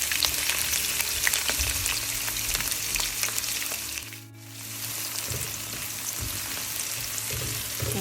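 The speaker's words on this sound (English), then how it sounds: "So I'm just going to let these onions fry for about 2 minutes." Onions frying in olive oil give a dense, steady crackling sizzle close by, briefly dipping for a moment mid-way before resuming at full strength, with no talking.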